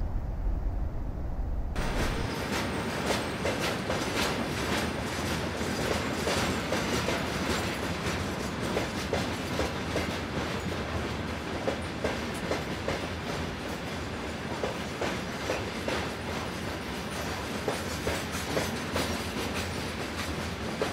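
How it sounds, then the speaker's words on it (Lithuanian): A train at Naujoji Vilnia railway station in Vilnius: steady loud rumble of railcars passing close, with rhythmic clickety-clack of wheels over rail joints throughout and no talk. "Naujosios Vilnios traukinių stotis."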